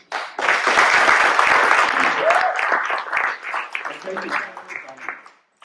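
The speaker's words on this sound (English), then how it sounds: "Let's have a round of applause for the readers" Applause from a small theatre audience for the readers at an evening of readings, swelling quickly, then thinning into scattered claps with some murmuring voices as it tapers.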